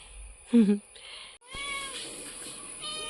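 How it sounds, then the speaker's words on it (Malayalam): A cat gives one short, close meow, followed by a quieter room with light background noise. "കൊടക്കുഞ്ഞേ മഞ്ഞപ്പൂച്ചേ ദേ കോഴിപ്പിള്ളേരുണ്ട് കേട്ടോ"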